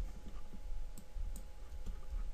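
Computer mouse in the Unity editor giving a few light, quiet clicks at an irregular pace over a low steady hum.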